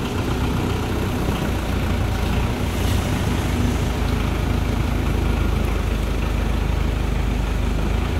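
A Yanmar HS7 diesel engine runs at a steady idle, a dense, continuous, close rumble with an even chugging texture and no speech over it.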